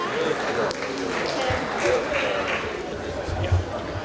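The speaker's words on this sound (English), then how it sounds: "Round of applause, ladies and gentlemen." Audience at a gun-auction festival breaks into applause after a lot is sold, a steady wash of clapping lasting a few seconds with voices murmuring underneath.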